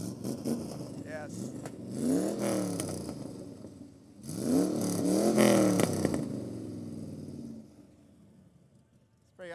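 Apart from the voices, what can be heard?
show car engine starting and revving at a car show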